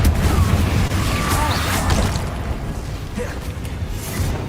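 Confringo explosive spell blasts in Hogwarts Legacy combat, loud booming bursts packed into a dense, continuous clash of game noise and voices.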